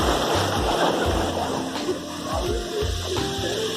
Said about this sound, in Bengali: ঢেউ মোটামুটি আছে, অনেকে স্নান টান করছে এপাশে